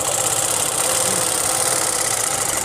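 A sewing machine runs continuously while stitching a seam on a suit kameez, giving a steady, loud mechanical whirr with a fast even rhythm and no pauses or talk.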